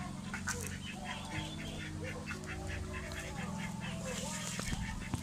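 A group of ducks quacks in rapid, repeated bursts nearby, overlapping calls with a low hum in the background.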